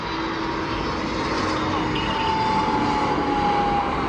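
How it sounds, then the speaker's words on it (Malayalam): A DHL plane passes at London Heathrow with a continuous, loud jet roar and a faint high whine riding on top, steady throughout. "നോക്ക്, ഇത് വിമാനം വരുന്നുണ്ട്"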